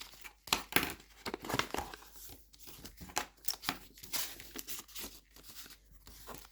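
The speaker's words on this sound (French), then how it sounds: "Marque bien les plis." Paper being creased and folded for a pop-up card, with close, soft crinkling, rubbing and sharp papery snaps in an irregular rhythm, fairly quiet.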